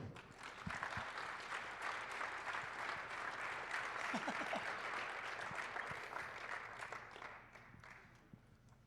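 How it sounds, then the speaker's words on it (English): An audience at a live sports data visualisation event applauds steadily to welcome a panel onto the stage. The clapping is sustained and moderately distant, and it tapers off near the end. "Big round of applause"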